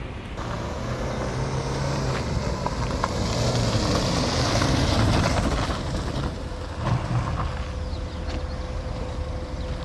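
A diesel vehicle engine rumbles steadily throughout, a continuous low idle with faint outdoor background noise and no talking.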